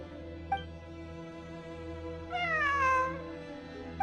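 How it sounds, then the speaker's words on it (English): A cat meows in the Genshin Impact video game, one drawn-out, rising and falling mew standing clear over a steady ambient music bed, with soft chime-like ticks at the start and end. "It really is a cat."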